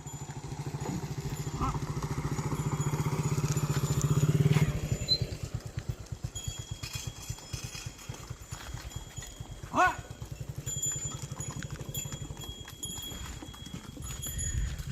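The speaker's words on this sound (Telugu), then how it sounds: "ఎన్నాళ్ళయిందో అటువంటి ఎడ్ల బండిని చూసి." A bullock cart passes along a rural road in Kedarlanka, Konaseema. Hooves clop in a steady, rhythmic beat close by, and the cart clatters along with them.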